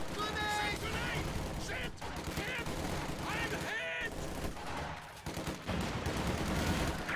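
Infantry gunfire from a World War II strategy video game comes as continuous rattling rifle and machine-gun bursts with distant booms. Synthetic radio-style game voices talk over the dense battle din.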